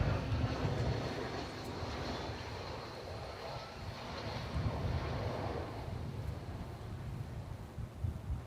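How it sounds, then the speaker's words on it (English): An American Airlines Airbus A321 jet arriving at DFW Airport gives a broad, distant engine rumble that fades gradually, with wind buffeting the microphone throughout. "American Flight 1215, that was, an Airbus A321 arriving from Puerto Vallarta"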